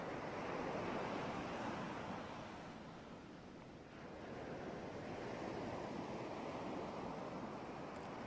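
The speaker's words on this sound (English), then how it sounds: "Listen to the waves crashing on the shore." Ocean waves wash onto a shore in a broad continuous roar, swelling loud, easing briefly in the middle, then building again, with no voices over it.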